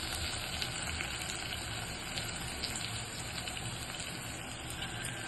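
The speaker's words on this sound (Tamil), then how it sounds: "சேர்த்துட்டு இதையும் நல்லா வதக்கி கொடுத்துக்கலாம்" Onion, tomato and drumstick leaves sauté in a pan for murungai keerai poondu kuzhambu, giving a steady, faint, even sizzle with no breaks and no voices.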